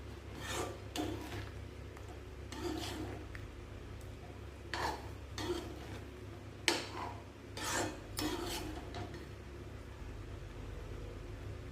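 Bun halwa being stirred in a pan with ghee, a spoon scraping the pan in repeated rasping strokes at an irregular rhythm, close and fairly quiet.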